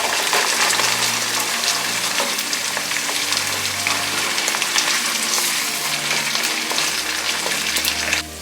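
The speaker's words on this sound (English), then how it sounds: "Of frying our onion, sauteing our onion, we add our tomato paste." Onion and tomato paste fry in a pan with a steady, dense sizzle, close and continuous, with a low hum running underneath and no voices.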